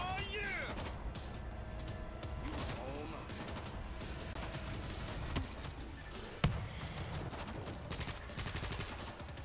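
A suppressed assault rifle in the video game World War Z fires steady rapid bursts, mixed with other game gunfire, clattering effects and a few sharper close hits, loud and continuous.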